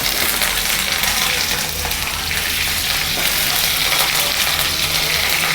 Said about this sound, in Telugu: ఆయిల్లో వేస్తే కొద్దిగా కరేపాకు వేసుకుంటే తాలింపు రెడీ అయిపోయినట్టే